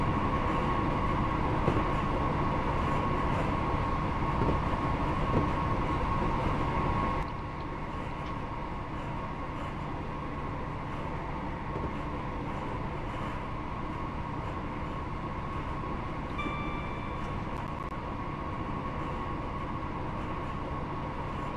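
A Class 158 passenger train in a train simulator game rumbles steadily along at speed between York and Garforth, a constant droning hum and rail noise with no voices, easing slightly quieter partway through.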